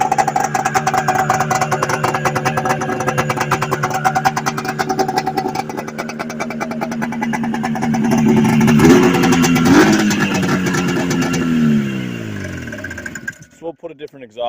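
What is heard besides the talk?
Yamaha Excel III 340cc snowmobile engine running, noisy exhaust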